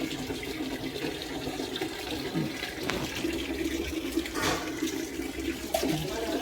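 Water runs steadily from an open tap at a house in Chennai, giving a continuous rushing splash that fills the whole clip without speech.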